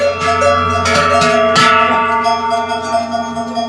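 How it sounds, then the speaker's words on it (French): Large cowbells hang from the necks of cattle being driven along a route, clanging loudly and continuously in an overlapping, rhythmic jangle of many ringing bells close by. "pour faire marcher le bétail, on est obligé de leur mettre des cloches au cou pour donner un certain rythme"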